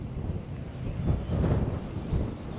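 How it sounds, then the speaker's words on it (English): Strong wind buffets the microphone in low, rumbling gusts that swell and fade, with no voices, beside a roadside ditch while fishing for speckled trout. "Did I mention it was windy?"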